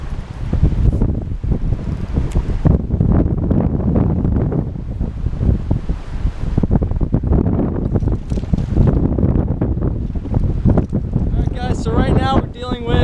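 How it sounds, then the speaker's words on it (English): Strong, gusty wind roars against the microphone on a bass fishing boat on Lake Champlain, a continuous loud rush with waves around it and a voice speaking near the end. "So right now we're dealing with a little bit of wind, not too much"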